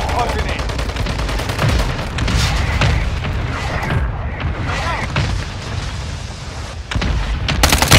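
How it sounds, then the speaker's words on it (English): Mortar strike explosions in Call of Duty Warzone Mobile, a loud, dense barrage of booms and gunfire-like blasts rolling continuously, with sharp impacts near the end and game voice callouts mixed in. "Friendly mortar strike inbound."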